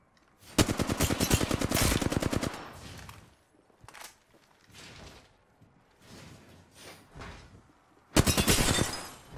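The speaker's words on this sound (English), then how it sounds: "They're attacking. Getting shot at." Automatic gunfire in the battle-royale game Apex Legends: a long rapid burst of shots for about two seconds, scattered single shots and thuds, then another loud fast burst near the end.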